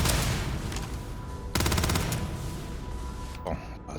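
Rifle gunfire in the space shooter game Starfield, a rapid burst of automatic shots crackling in a tight rhythm, with a loud dense volley midway and a few sharper reports near the end, over background game noise.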